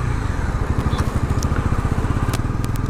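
A Bajaj Pulsar NS 400Z motorcycle engine runs close and loud, with a steady, rapid, throbbing single-cylinder pulse and a faint crackle on top.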